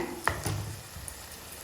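Thuthi leaf greens cook quietly in a pan, with a couple of brief, soft scraping strokes from stirring over a faint low sizzle.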